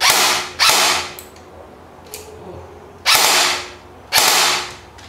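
Four sharp mechanical clacks from a King Arms M4A1 RIS Advance full-metal airsoft rifle being dry fired indoors, each a loud bursting snap with a short decaying tail, unevenly spaced with a faint click between them.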